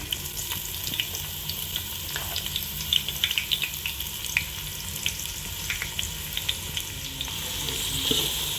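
Chopped onion, about 800 grams, sizzles steadily in a pan for dhaba-style whole masoor dal while it is stirred toward a reddish brown, with soft scraping and crackling ticks over a constant hiss.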